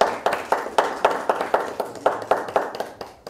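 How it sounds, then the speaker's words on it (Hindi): An audience at an Easter poetry recital (mushaira) claps in a steady rhythmic beat, with sharp repeated hand claps close and fairly loud, then stopping abruptly. "आपकी बहुत सारी तालियों की गूंज में जनाब डेविड पर्सी साहब"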